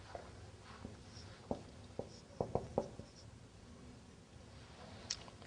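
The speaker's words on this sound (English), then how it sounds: "let me write it down" Chalk or marker writing on a board sounds as a scatter of short, faint taps and scrapes, clustered irregularly in a quiet room with no talk.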